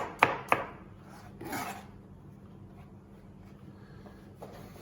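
A kitchen knife chops garlic on a cutting board after onion: two sharp close knocks, then a brief scraping burst, followed by quiet with faint background hum.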